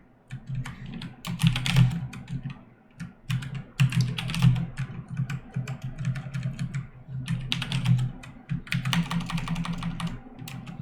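Rapid typing of code on a computer keyboard, close and continuous clicking in uneven bursts with brief pauses between runs of keystrokes.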